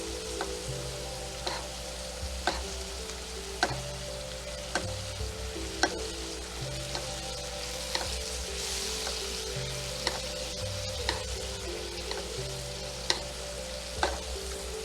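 Scallops sear in brown butter in a hot pan, a steady close sizzle and crackle running throughout, with periodic clicks and taps of a utensil basting, and a low hum underneath; nobody speaks.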